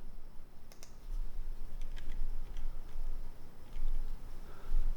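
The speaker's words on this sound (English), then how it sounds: "typing in a question in Italian?" Someone types a question on a computer keyboard, producing quick, faint, irregular key clicks over a steady low background noise.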